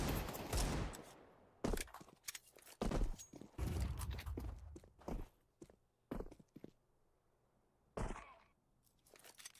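Desert Eagle pistol shots fire rapidly in a competitive tactical shooter match, with sharp repeated bangs, uneven gaps and some quieter footstep-like thuds between them.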